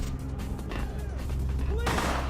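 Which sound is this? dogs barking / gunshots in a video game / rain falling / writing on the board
gunshots in a video game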